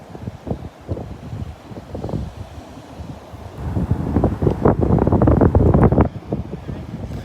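Ocean surf at Delnor-Wiggins beach, waves somewhat flattened by the wind, washes and breaks in rough bursts while gusts buffet the microphone, swelling louder toward the end.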